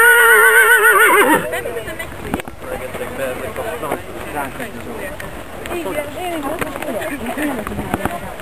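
Horses at a hunting ride whinny loudly just after a gallop, a high wavering call lasting about a second, followed by people talking over a busy outdoor background.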